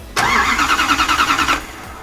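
Starter motor cranking over a Toyota 1UZ V8 engine, a loud close whirring churn with a fast regular pulsing beat that starts abruptly, holds for over a second without firing, then cuts off.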